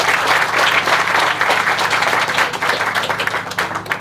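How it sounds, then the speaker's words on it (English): An audience at a film screening during a tomb rededication event gives a loud, sustained round of applause, dense clapping filling the whole stretch without talk. "let's have a round of applause for this film"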